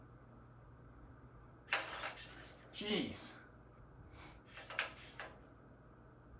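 Cheap small plastic motors swing a heavy swivel assembly and brake it to a stop, giving loud broadband rasping grinding bursts in two main spells with a brief whine between, while a man exclaims once.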